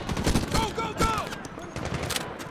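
Rapid bursts of gunfire from a weapon in the video game Medal of Honor, several sharp close shots in quick succession under a voice talking.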